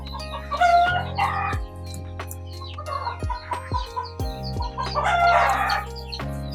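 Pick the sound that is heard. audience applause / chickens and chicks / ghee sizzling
chickens and chicks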